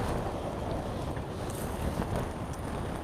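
Strong wind buffets the microphone in a constant low roar at Starbase, Boca Chica, Texas, gusting slightly throughout with no voices present.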